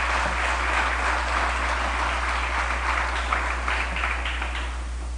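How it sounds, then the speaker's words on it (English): Audience applause at a San Fernando chamber of commerce political event, a steady, moderately loud patter of clapping from a crowd, with a low electrical hum running underneath throughout. "Please give him a round of applause again."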